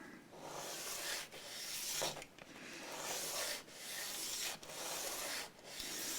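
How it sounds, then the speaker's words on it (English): A guitar bridge piece for a Martin HD28 acoustic is sanded down to height, rhythmic back-and-forth rasping strokes, close and fairly quiet, with brief pauses between passes and no talking. "So when you're sanding down a piece like this to your desired height"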